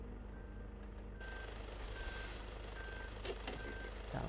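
A truck backs up in Euro Truck Simulator 2 while parking to unload its cargo. Repeated electronic reversing beeps sound at a regular pace over a low engine hum, all fairly quiet, with no talking.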